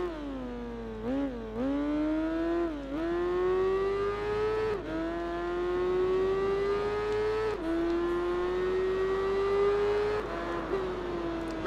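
A racing motorcycle engine in the game Tourist Trophy, a loud sustained whine rising through each gear with several sharp drops at shifts, steady and close with no voices.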